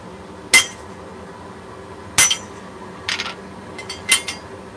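A metal hammer strikes a puller tool set around the head of a workpiece at the start of a taper: four or five sharp, ringing metallic blows at irregular intervals, close and fairly loud, with no talking.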